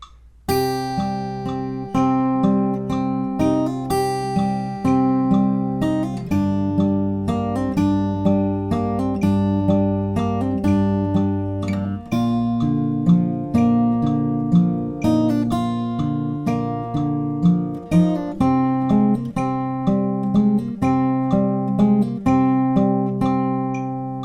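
Solo fingerstyle guitar plays the Game of Thrones theme verse at a slowed 75% tempo, evenly spaced plucked notes ringing over sustained bass, close and clean, with no speech.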